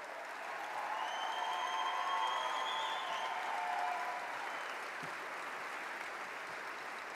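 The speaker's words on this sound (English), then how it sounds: "Give them a round of applause." A crowd at a mayor's State of the City address applauds steadily for several seconds, the clapping swelling and then thinning out, with a few whistles over it.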